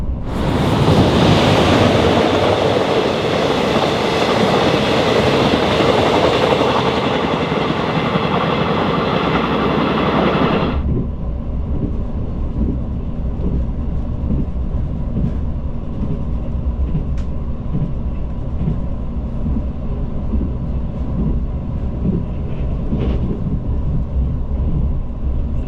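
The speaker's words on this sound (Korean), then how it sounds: "잠시 후 열차는 경부선 지천철교를 건너 경상북도 칠곡군에 진입합니다." Steady loud rumble of a Mugunghwa passenger train crossing the Jicheon railway bridge on Korea's Gyeongbu Line, with broadband roar that drops abruptly partway through to a lower, rhythmic clatter of wheels.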